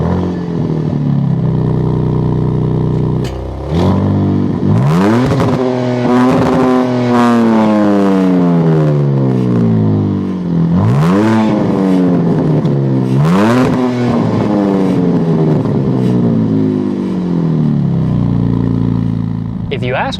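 A 2026 Dodge Charger Sixpack Scat Pack engine revs repeatedly, rising and falling in deep throaty surges several times, close by, over a rumbling idle.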